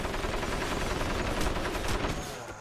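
Dense, continuous machine gun fire from a machine gun nest in the video game Crysis, a steady rattling barrage at moderate distance that eases off slightly toward the end.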